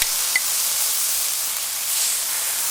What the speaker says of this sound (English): And now for the prawns, sizzling as they hit the griddle.